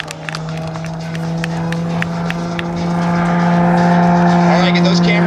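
The Big Bad Green model aircraft, flown by a pilot at El Centro, drones steadily with a sustained engine tone that swells louder as it closes in for a photo pass, with a voice speaking over it.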